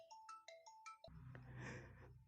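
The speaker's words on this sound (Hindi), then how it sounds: "फिर फोन आ गया।" A phone ringtone plays an incoming call as a bright, stepped melodic chime of several quick notes, then gives way to a denser, louder burst of ringing tone, fairly close and with no talk over it.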